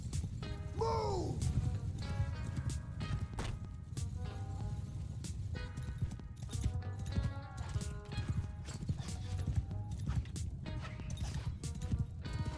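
Horses galloping in the Bannerlord medieval battle game, dense rapid clip-clop of many hooves under a battle soundscape, with a horse whinny early on and clashing sounds scattered throughout.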